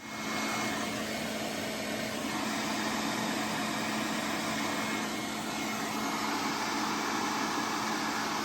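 Loud, steady broadband rush of air blowing through a 3400 V6 intake plenum with a water-methanol injection pump spraying, an unbroken whooshing roar with a faint constant hum underneath and no voices.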